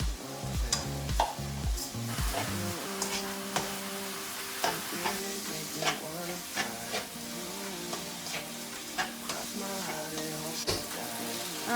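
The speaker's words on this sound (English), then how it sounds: "she says to fry the rice" Rice frying in a pan for a mushroom and pork or beef rice dish, with a steady close sizzle and repeated scraping, clattering stirs throughout.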